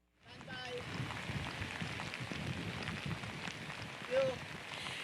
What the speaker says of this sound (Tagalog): Pia Ivan, sa mga oras nga na ito ay napakalakas na ng buhos ng ulan dito sa bayan ng Agoo sa probinsya ng La Union